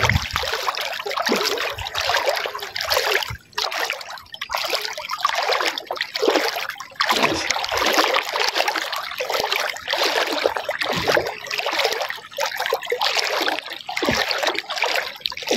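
Waist-deep flood water slops and swirls in uneven, repeated surges, like steady wading splashes, with trickling and gurgling between them, close and moderately loud throughout.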